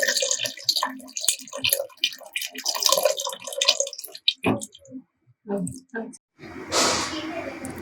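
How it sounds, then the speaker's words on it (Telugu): Tamarind juice splashes into a pot of sambar with vegetables and lentils, a brief wet pouring rush near the end that follows a stretch of spoken cooking instructions and faint kitchen clatter. "చింతపండు రసం యాడ్ చేసుకోండి"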